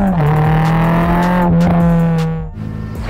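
A Renault Clio 16V engine revving hard to high rpm, a loud, close, buzzing four-cylinder note that holds a steady high pitch before dropping off as the throttle lifts.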